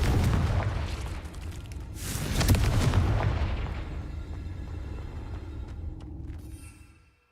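A Confringo spell blast in a wizard video game, a deep booming explosion that swells and rolls on, then fades away to quiet, loud and alone with no talking.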